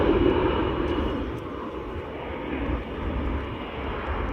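An airplane's engines roar steadily in a broad, loud rush at Springfield-Branson National Airport, slightly fading then holding as the aircraft powers up for takeoff.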